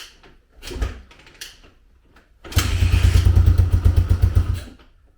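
A 2000 Honda XR200R dirt bike with a freshly rebuilt engine is kicked over with a couple of clattering thumps, then fires and runs loudly with a rough, choked idle for about two seconds before cutting out.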